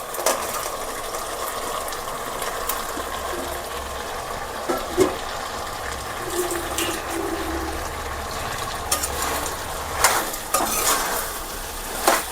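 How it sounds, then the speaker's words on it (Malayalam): Food frying in a pan is stirred and mixed, with a steady sizzle underneath and intermittent scraping and clinking of the utensil against the pan, close and moderately loud, with no talking. "നന്നായിട്ടൊന്ന് മിക്സ് ചെയ്ത് കൊടുക്കുക."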